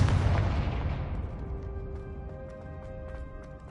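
Confringo spell explosion in a Harry Potter video game, one loud boom up close that fades over a couple of seconds into a ringing tail with faint crackling debris.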